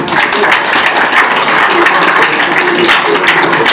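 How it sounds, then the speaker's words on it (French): An audience at a three-cushion billiards exhibition by world champion Torbjörn Blomdahl breaks into loud, sustained applause, dense clapping filling the room without pause. "Ah, il faut applaudir quand même."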